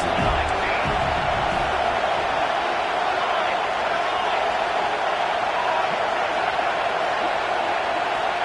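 A stadium crowd in a college football video game keeps up a steady, dense roar of cheering throughout, constant and fairly loud without distinct peaks.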